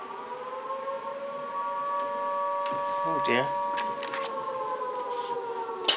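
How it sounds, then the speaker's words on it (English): A steady electronic alarm tone rings on and on at a constant pitch, fairly loud and close. A person briefly mutters partway through, and a faint rustle and clatter sit underneath. "Oh, that's my alarm."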